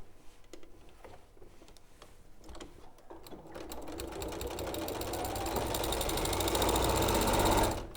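A sewing machine stitches rows on a bag, starting with a few slow, separate stitches and building to a fast, loud, continuous mechanical whir before stopping abruptly.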